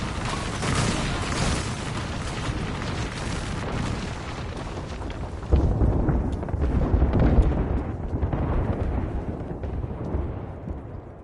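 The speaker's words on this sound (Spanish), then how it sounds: "Ataque de artillería en campo." An artillery strike in the battle-royale shooter Apex Legends, heard as a sustained barrage of heavy, rumbling booms that swells sharply midway and then trails off, loud and close, with no talk over it.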